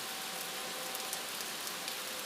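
Steady rainfall makes a soft, even hiss that runs unbroken from start to finish and stays faint throughout, with no voices.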